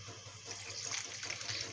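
Salted, sugared cucumber pickle brine pours into a jar in a brief, steady splashing stream of liquid, close and fairly quiet.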